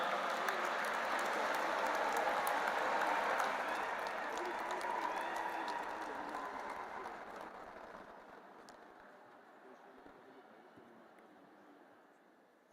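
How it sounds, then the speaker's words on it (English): A conference audience claps to welcome a speaker at an interfaith harmony gathering, a broad wash of applause that starts full and gradually thins and fades away over several seconds. "Please put your hands together and welcome with a big round of applause"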